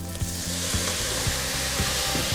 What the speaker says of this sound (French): ça va déglacer le fond